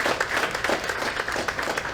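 Audience applause at an awards ceremony, a steady dense clapping from many hands filling the room at close range, sustained throughout without voices.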